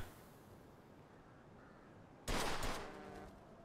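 A sudden loud gunshot, one sharp blast with a decaying tail, fired at an old car wreck in Mafia 2, breaking a quiet background.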